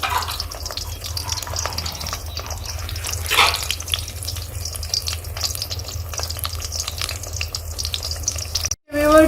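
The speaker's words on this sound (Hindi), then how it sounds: "इनको सिर्फ 2 मिनट के लिए फ्राई करना है।" Eggplant slices fry in hot oil with a continuous crackling sizzle, close and fairly loud, punctuated by a brief louder burst midway and a short clatter near the end.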